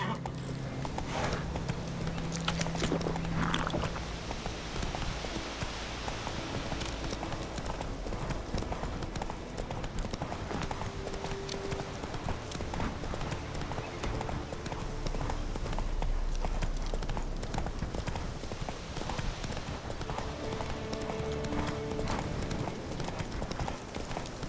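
Horse hooves clip-clopping steadily at a gallop in a video game, a continuous rhythmic beat lasting throughout with a brief whinny-like tone early on and faint game ambience beneath.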